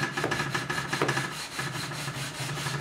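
A radius beam rubs back and forth across the fingerboard of a Fender USA Deluxe Active Precision Bass being re-radiused, giving close, rhythmic abrasive strokes about three or four per second.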